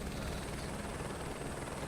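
Helicopter in Microsoft Flight Simulator 2024, a loud, continuous rotor and engine roar with a steady, dense drone throughout and no voices.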